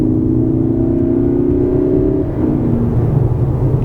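A Lexus NX 300h hybrid in sport mode, with synthetic engine sound piped through the cabin speakers: a steady droning hum that rises in pitch, then drops and settles, over low road rumble.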